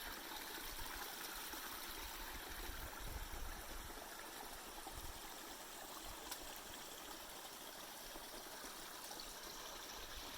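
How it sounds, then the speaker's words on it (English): Small creek flowing beside a backpacking trail in the Great Smoky Mountains, a steady close wash of running water that stays even throughout with no talk. "Stopped along the trail at this creek."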